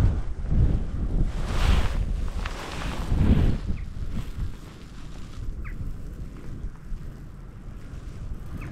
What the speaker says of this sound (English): such a strong wind that doesn't help